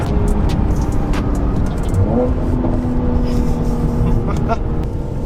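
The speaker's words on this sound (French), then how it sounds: "là c'est puissant. Tu sens que le turbo kick" A Mercedes C43 AMG's turbocharged engine pulls hard under acceleration, with a loud, steady interior drone that sits under occupants' conversation.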